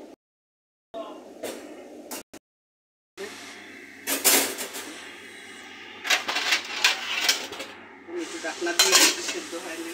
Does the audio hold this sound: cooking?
yes